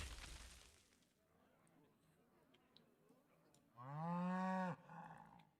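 Cow moos in a video game card match, a loud drawn-out moo near the end after quieter game clicks and faint background, with a voice speaking at the start.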